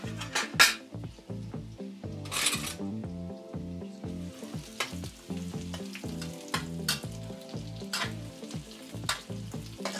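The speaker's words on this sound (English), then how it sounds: "in goes our garlic and ginger." Garlic and ginger sautéing in hot oil crackle loudly and close, with rhythmic scraping and stirring and occasional clinks of utensil against pan; no one speaks.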